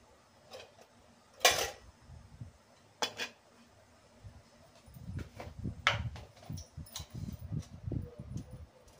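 A pressure cooker set down on a kitchen stove while cooking dal: a couple of sharp metallic clanks early on, then scattered knocks and handling clatter.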